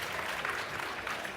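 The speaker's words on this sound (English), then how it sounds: "Round of applause for that" Brief, steady applause from an audience at a talk on small-scale cannabis production, a dense, even patter of clapping with no pauses.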